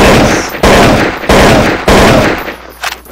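AK-47 automatic fire in Counter-Strike rips out in three loud, close bursts of rapid shots, each about half a second long, separated by brief gaps, with the last burst trailing off.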